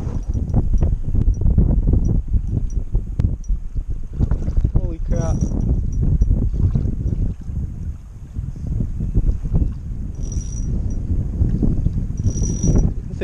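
Wind buffets a kayak drifting offshore on a Texas lake during bass fishing, a steady loud rush of wind noise across the microphone with water sloshing and occasional knocks against the hull, continuous throughout while someone speaks.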